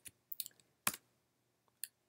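A few light, sparse key clicks on a Mac computer keyboard as a command is typed, quiet and close with short pauses between taps.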